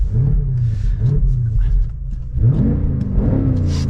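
Deep rumbling from a 2023 BMW X6 M Competition SUV engine, heard close and steady, with a brief dip before the revs swell again, and no voices.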